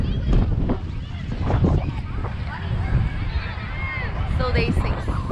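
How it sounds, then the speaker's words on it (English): Wind gusts buffet the microphone on a beach at Burleigh Heads, a loud rough rumble with bursts of blustering noise throughout and faint higher sounds in the background. "And the wind is coming again."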